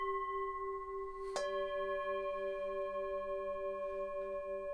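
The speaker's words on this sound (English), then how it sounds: "They are bowl gongs, essentially, and they're often used in Buddhist ritual for prayer and meditation." A Japanese dabachi bowl gong from Buddhist ritual is struck once while another already rings, giving a sharp metallic strike and a pure, long-sustaining shimmering tone that decays slowly, quiet and alone.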